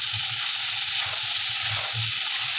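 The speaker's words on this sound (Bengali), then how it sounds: "দেখুন ঝিঙাটা খুব সুন্দর ভাজা হয়ে গেছে" Ridge gourd fries in a pan with a steady, dense sizzle and a soft rhythmic low bubbling underneath, close up and continuous without voices.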